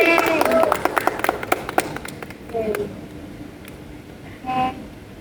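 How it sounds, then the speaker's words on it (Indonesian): Podcast hosts clapping on cue in a studio setting, a quick burst of sharp, close hand claps over the first two seconds, with voices and a brief vocal sound afterward. "Tepuk tangan guys"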